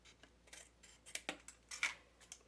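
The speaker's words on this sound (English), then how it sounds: "Just take your scissors and trim them off." Scissors snipping paper pocket flaps while a paper-craft folio is assembled, a series of faint, close, irregular crisp cuts and rustles in an otherwise quiet room.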